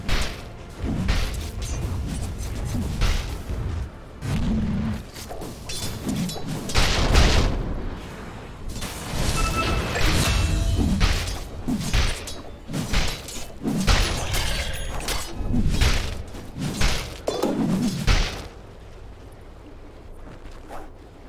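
Dota 2 battle at the Dire's bottom tower: a dense run of game combat sounds, repeated booming impacts, thuds and crashing hits layered over one another, loud and steady throughout with a softer tail at the end.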